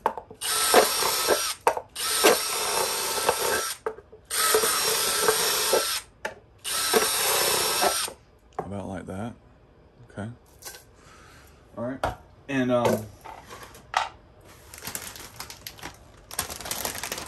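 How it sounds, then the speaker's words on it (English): A DeWalt power drill whirs in several loud, sustained bursts while drilling drainage holes in a plant pot, separated by short pauses, followed by quieter clicks, scraping and a voice. "I'm going to take my DeWalt drill. And I'm going to drill, you know, some holes in here"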